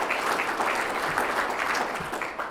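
Full, continuous applause from a banquet audience at a city's state-of-the-city event, dense clapping throughout that eases slightly as it tails off near the end.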